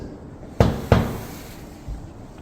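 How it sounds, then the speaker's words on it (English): Two sharp, close knocks on wood land about a third of a second apart during a ghost hunt in the Titanic Museum in Pigeon Forge, followed later by a fainter thud. No voices. "Can you knock twice for us so we know it's really you?"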